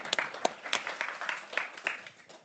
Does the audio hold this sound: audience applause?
yes